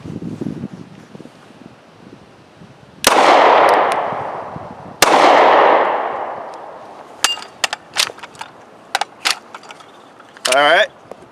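A Taurus G2C pistol fires close and loud, with two reverberant shots outdoors, followed by a quick series of sharp metallic clacks as the slide is racked one-handed against a wooden post, then a short scraping rattle.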